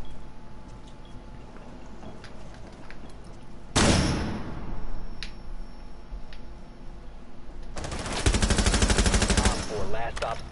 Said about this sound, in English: They're shooting from window.